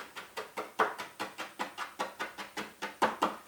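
A knife chops through lemon zest on a board in a steady run of about a dozen crisp, evenly spaced strokes, close and clear with no talking.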